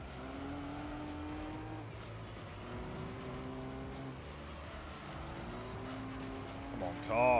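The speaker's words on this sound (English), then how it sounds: "Come on, car. Quit sliding about." Tires squeal and slide under a steady, whining race-car engine in Gran Turismo 3 A-Spec. The skid is heard through most of the lap, with a louder surge near the end.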